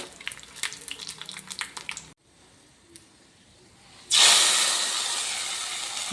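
Hot oil tempering of Byadagi chillies and curry leaves hits bitter gourd gojju: after soft clinks and a brief lull, a sudden loud hissing sizzle bursts up and holds steady, close by.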